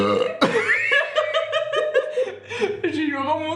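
A long, croaky burp rises after eating pizza, a drawn-out guttural belch with chuckling breaths and bits of voice mixed in, close and moderately loud.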